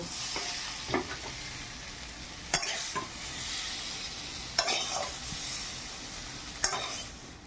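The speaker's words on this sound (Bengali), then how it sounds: "আমি কিছুক্ষণ ভেজে নেব। মানটা ভাজা ভাজা হয়ে গেছে, এবারে কড়াই থেকে" Giant taro (maan kochu) pieces sizzling steadily in a wok, a soft continuous fry broken by a few sharp scraping stirs with a spatula, fairly quiet with no talk.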